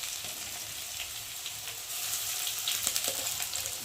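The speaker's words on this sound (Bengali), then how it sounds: "দেবো নুন, দেবো হলুদ গুঁড়ো দিয়ে মশলাটা আলুর সাথে আরেকটু ভালো করে ভেজে নেব" Potato and eggplant fry in a pan with ginger and cumin paste. A loud, continuous, close sizzle grows slightly stronger partway through, with faint stirring and no speech.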